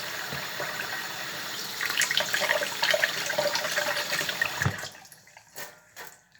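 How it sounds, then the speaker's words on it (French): Apples are rinsed under a running kitchen tap for an apple cake, giving a steady close splash of water that stops partway, followed by a few drips and handling noises. "on lave bien les pommes"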